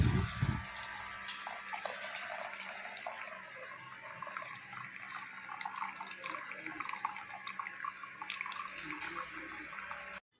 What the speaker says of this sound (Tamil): மஷ்ரூம் வேக வச்ச தண்ணியை நம்ம வடித்து எடுத்துட்டோங்க.